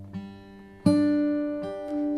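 Fingerstyle acoustic guitar picked with the middle finger accented: sustained ringing notes with sharp louder plucks standing out among softer ones, heard alone and close.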